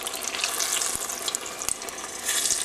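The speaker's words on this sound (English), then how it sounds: "Now we're going to drop it in our hot grease to fry it." Stuffed beignet dough fries in hot grease with a dense, crackling sizzle, bubbling continuously at close range with a few sharp pops and no voices.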